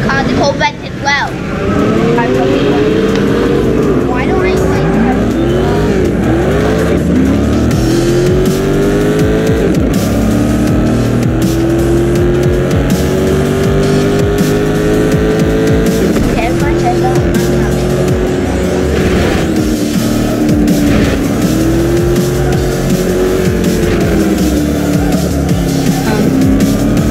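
Corvette race cars in the video game GT Racing 2 rev and shift repeatedly, their engines climbing and dropping in pitch over and over, with tire squeals mixed in throughout a loud, continuous race.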